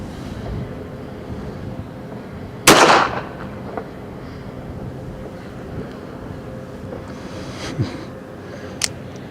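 One sharp, loud report from a High Standard Model G .380 pistol cracks out over steady outdoor wind noise at the range, with a few faint clicks and pops afterwards.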